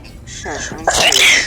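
A loud, close sneeze bursts out right after a person speaks briefly, with the talking just before it.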